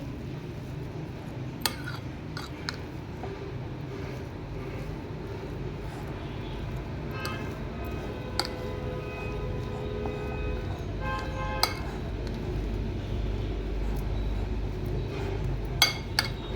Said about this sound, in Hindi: अच्छी तरह मिक्स कर देंगे हम।